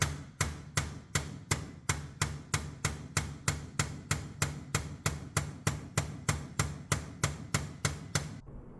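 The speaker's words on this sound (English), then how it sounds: "I did have to beat the hell out of it to make it go in." Roughly two dozen sharp, evenly spaced hammer blows drive a part into a C5 Corvette seat, sounding close, loud and metallic in a steady rhythm until they stop abruptly near the end.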